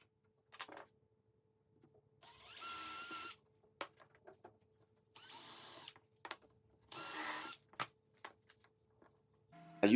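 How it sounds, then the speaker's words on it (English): A power drill whirs in three short bursts of about a second each while drilling holes in coffee table wood, separated by quiet clicks and handling noises, close by and with no talking. "This way I can drill perfect holes to match them up and attach them with screws and glue."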